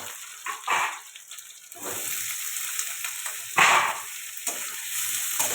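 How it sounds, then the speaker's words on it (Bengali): Potatoes fry in hot oil in a pan after onions, giving a continuous crackling sizzle broken by bursts of scraping and stirring. "আলুটা একটু ভালো করে ভেজে নেবো"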